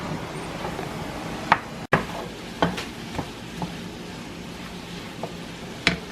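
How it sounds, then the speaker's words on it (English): Mushrooms sautéing in a pan give a soft, steady sizzle, broken by occasional sharp knocks and clinks of a utensil against the cookware. "So we're just going to saute these for about 3 or 4 minutes maximum"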